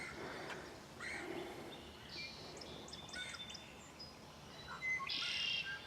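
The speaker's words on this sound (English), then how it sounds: "I love the sound of the birds." Several birds chirp and sing on and off in an open outdoor space at Spicer Lake, with short bright calls scattered over a faint background hush, one burst louder near the end.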